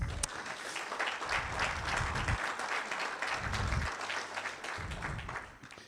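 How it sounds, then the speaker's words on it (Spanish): A church congregation applauds during a Spanish-language worship service: a dense, steady wash of clapping fills the room for about six seconds, with low rumbling bursts underneath. "aplauda al Señor"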